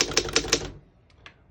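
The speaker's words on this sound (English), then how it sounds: "As you can see, all the keys type nice and none of them skip or stick." Keys strike on a 1911 Underwood antique desktop typewriter, three crisp clacks in quick succession, followed by a few fainter taps as the typing tapers off, close and alone.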